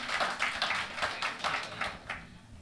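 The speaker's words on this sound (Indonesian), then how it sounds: "Sini tepuk tangan buat Opung" A church congregation claps for an elderly woman called Opung at a special prayer service, a brief run of quick rhythmic handclaps from a small group, moderately close and unaccompanied by voices.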